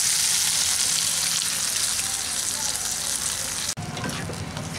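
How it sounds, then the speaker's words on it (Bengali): Boiled red lentils go into a frying pan with spring onion, setting off a loud, dense, continuous sizzle close by that breaks sharply near the end and resumes slightly quieter. "এখন আমি এর মধ্যে সিদ্ধ করে রাখা মুসুর ডালটা দিয়ে দিচ্ছি"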